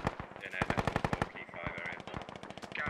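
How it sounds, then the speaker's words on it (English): Rapid machine gun suppressing fire in a tactical shooter video game, a dense run of loud, close bursts with short gaps and a few longer pauses, lasting the whole stretch. "we have Rook putting down suppressing fire onto the"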